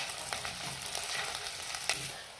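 Crushed ginger and sliced shallots frying in hot oil for a Kerala prawn curry, a dense, close, steady crackling sizzle with small spits and stirring noises, no one speaking.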